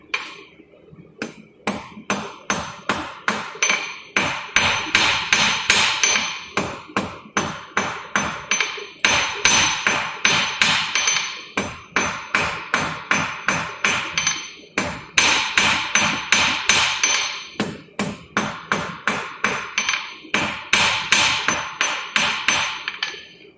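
A blacksmith hammers hot thin metal on an anvil to draw out a taper, steady rapid ringing blows in bursts separated by short pauses, loud and close with no talking.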